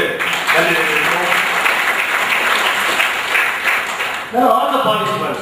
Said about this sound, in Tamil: அவங்களுக்கு ஒரு மிகுந்த கரகோஷத்தை கொடுத்து நன்றி தெரிவிக்கிறோம்